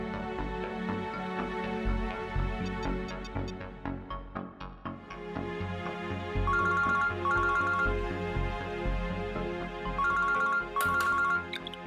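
A phone ringtone during a call scene in a Hindi TV horror serial: a repeating electronic melody with bright beeping accents, loud and continuous over a background music bed, with no talk over it.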